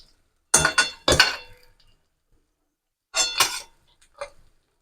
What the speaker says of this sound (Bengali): মাছের মাথাটা ভাজা হয়ে গেছে, এবার এটাকে আমি কড়াই থেকে তুলে নেবো।